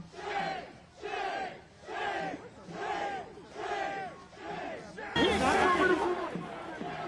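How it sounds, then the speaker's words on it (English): A protest crowd chants "shame" at a street intersection during unrest in Minneapolis, the voices rising and falling in steady repeated rhythmic bursts of about one per second and growing louder toward the end. "The shame chant."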